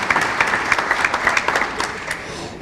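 Audience applause at a book signing for a novel, a steady patter of many hands clapping close by, continuous for the whole stretch without a break.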